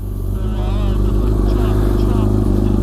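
A Honda Fireblade project bike rides along with a steady, loud engine drone that holds close and constant throughout, with a slight rise in pitch partway through.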